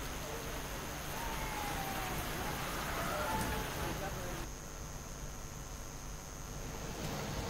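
Heavy rain soaking the roads in Narnaul, Haryana, during a storm, heard as a continuous broadband downpour at moderate level, with some voices faintly mixed in.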